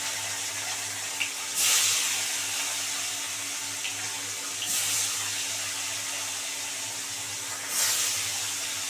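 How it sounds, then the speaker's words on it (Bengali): A steady crackling sizzle of bhola fish pieces frying crisp in hot mustard oil, with a few louder hissing surges spaced a few seconds apart. "ভালো করে কড়া করে মাছগুলো ভেজে নিতে হবে"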